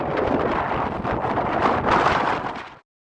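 Strong wind at 12,000 feet on Trail Ridge Road in Rocky Mountain National Park, Colorado, buffets the microphone in a loud, steady rush with swelling gusts, then stops abruptly.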